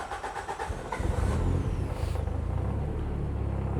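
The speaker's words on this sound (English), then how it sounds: "So basically we can start the car." A Nissan S13 on a dyno cranks with a few rapid starter pulses, then catches into a loud, close, steady engine rumble that fills the rest of the moment.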